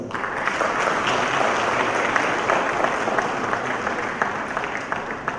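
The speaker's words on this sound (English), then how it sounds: "Kindly join me in a round of applause." An audience at a plenary conference session gives the speakers a full round of applause, dense and steady clapping filling the hall from start to finish.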